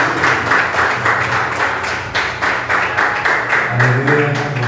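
A church congregation claps together during a worship service, with rhythmic bursts of hands close and loud over a low musical backing and murmuring voices.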